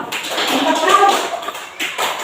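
Close hand claps in a classroom counseling exercise, a run of sharp claps with a brief pause before a couple more, mixed with some voice and shuffling.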